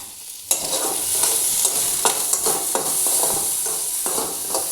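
Hog plums with salt, turmeric and panch phoron fry in a little oil while a spoon stirs them. A steady sizzle sits under a series of sharp scraping strokes at a regular pace, starting abruptly after a brief quiet moment.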